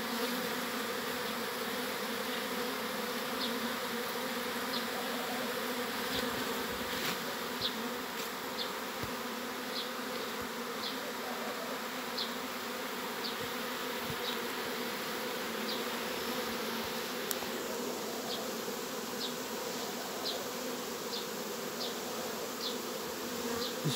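A swarm of honey bees buzzes steadily outdoors, a dense, continuous drone of many wings with occasional bees passing close by.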